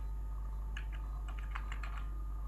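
A brief run of quiet keyboard taps on a computer, about a dozen light clicks in quick succession over a constant low electrical hum.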